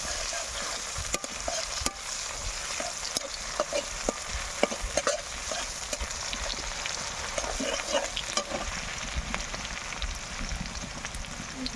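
Onions browning in hot oil for a Bengali fish curry, a steady broadband sizzle with scattered pops and occasional stirring scrapes, continuous and fairly close throughout.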